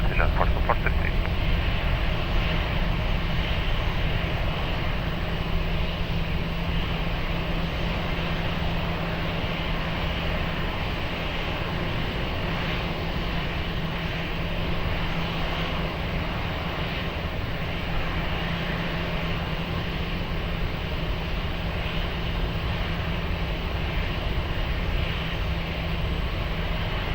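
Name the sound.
airplane at Lisbon Airport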